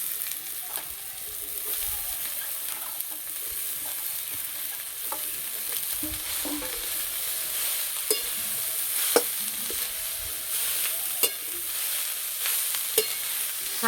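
Cabbage cooks in a frying pan with turmeric, chili and cumin powders and a little sugar, giving a soft steady sizzle with scattered clicks and scrapes of a spoon stirring close by.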